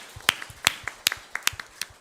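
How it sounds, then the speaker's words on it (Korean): Scattered, light hand claps from a church congregation, a sparse irregular patter of individual claps at moderate distance with no talking over them. "서로 수고하셨다고 하나님께 영광의 박수 올려드리겠습니다"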